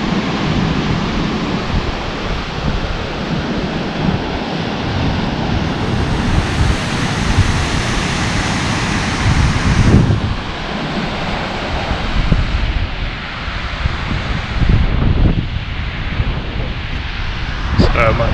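Surf breaks steadily on a beach on Scotland's north coast under cloudy skies, a dense, continuous roar of washing waves with some wind rumble, close and loud throughout with no talk.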